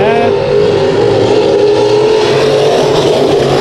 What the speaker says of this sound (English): that's Cruz Griffith going around for the first spin of 2016 on Low Budget TV.